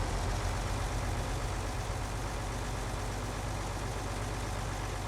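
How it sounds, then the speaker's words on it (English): A small New Holland tractor idles steadily at close range during silage work on a farm, a continuous low engine rumble with no talk over it. "So this little New Holland, it's a nice little tractor."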